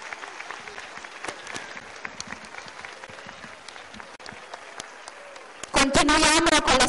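Crowd applause at a historical costume parade, scattered clapping across the first part, then a louder burst near the end with voices and a tonal sound rising over it.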